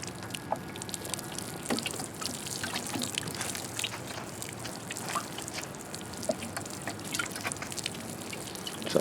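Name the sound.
watering carrot plants in the garden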